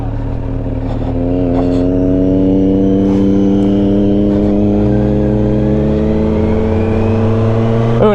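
A Kawasaki Z900 motorcycle engine revs steadily while riding, loud and close, with a strong droning tone that climbs and shifts pitch as the throttle opens.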